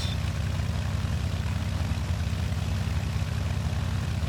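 A Beech V35B Bonanza piston engine idling at about 1000 RPM in X-Plane, a steady low propeller drone with a throbbing rumble and no talk.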